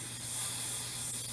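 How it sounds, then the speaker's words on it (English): Basting spray from an aerosol can hisses in one short, steady burst, close and fairly faint, used in crafting a llama ornament, with no voices over it. "I'm going to put a little bit of basting spray"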